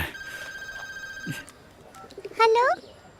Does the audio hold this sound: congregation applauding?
no